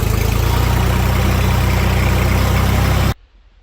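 A JINMA 244 minitractor engine runs loud and close with a steady low, throbbing diesel idle as it drives in reverse, continuous for about three seconds before cutting off, with no talk.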